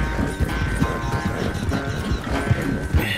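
Horse galloping in Red Dead Redemption II, steady rhythmic hoofbeats thudding close under a continuous background hum.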